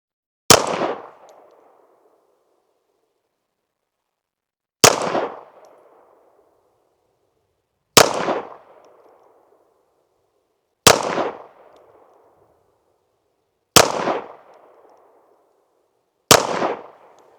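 An Archon Type B Gen 2 pistol fires six single shots of Federal Champion ammunition at a range. Each crack is loud and sharp with a short decaying echo, spaced roughly three seconds apart in an uneven rhythm.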